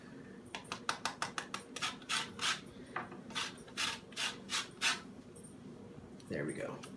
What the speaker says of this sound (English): find a good grater or a good rasp, cooking rasp